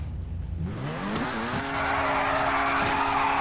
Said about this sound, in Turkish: Teker patladı.